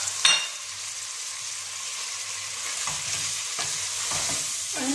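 Meat and onion sizzle in a pot for Moroccan couscous as they are stirred, a steady close hiss of frying with a few soft scrapes and knocks of the spoon.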